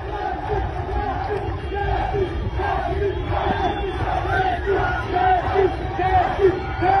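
Loud crowd of people chanting and cheering around an army vehicle during unrest in Tanzania, rhythmic shouts and whoops rising and falling continuously, dense and close.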